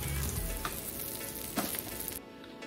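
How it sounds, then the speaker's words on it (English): A pot roast sears in a hot pan with a dense, crackling sizzle that stays close and steady, broken by a couple of brief clinks before it fades out. "Allow it to cook about 3 to 4 minutes on each side for a nice sear"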